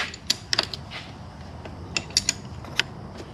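Ratcheting wrench loosening cylinder base nuts on a KTM 125XC two-stroke dirt bike's top end, producing quiet close metallic clicks and ticks scattered irregularly over a low background hum.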